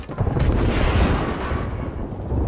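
A video-game airstrike in Apex Legends lands as a dense, rumbling barrage of explosions, loud and sustained for a couple of seconds with deep booming low end and no talk over it.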